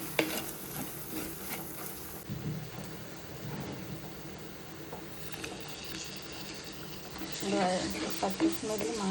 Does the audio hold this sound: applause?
no